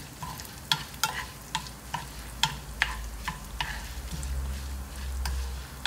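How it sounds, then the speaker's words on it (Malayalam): Curry leaves and curry ingredients fry in a pan over low heat, giving a steady soft sizzle broken by repeated sharp clicks and scrapes of a spoon stirring against the pan. "ഇനി നന്നായിട്ട് ഇതൊന്ന് വറുത്തെടുക്കുക, സിമ്മിൽ വെക്കുക"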